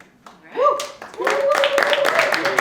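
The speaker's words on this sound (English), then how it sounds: "applaud the poet" An audience at a youth poetry slam breaks into applause for a poet, with a voice speaking over the swelling clapping as it continues steadily to the end.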